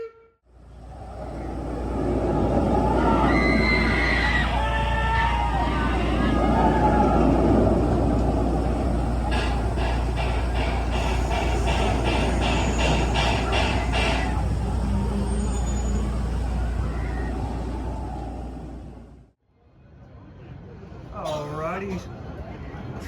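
Front-row ride on the Pantheon roller coaster at Busch Gardens Williamsburg, a loud continuous rumbling roar of the train on track with rattling and wind for about nineteen seconds, then a sudden drop to quiet with a voice speaking.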